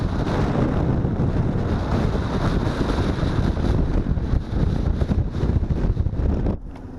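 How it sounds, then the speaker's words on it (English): Wind buffets the microphone outdoors by a lake while cruising near a golf course, producing a loud, constant rumbling roar that drops off abruptly near the end. "I don't know if you can hear me over the wind"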